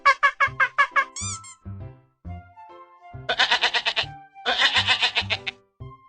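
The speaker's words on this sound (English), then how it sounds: "Goat." A goat bleats repeatedly: first a quick run of short, pulsing calls, then two longer, loud, quavering bleats close by, with brief gaps of quiet between them.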